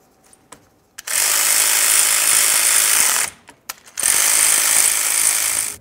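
A power tool drives mounting bolts into the rear axle bracket of a 2003-2011 Mercury Grand Marquis in a steady mechanical whir. It runs in two sustained bursts of about two seconds each, close and loud, with brief clicks between them.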